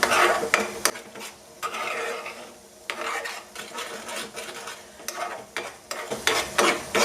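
Red chilli momo chutney is mixed with a spoon in a bowl, giving repeated close, gritty scraping and rubbing strokes that come in uneven bursts.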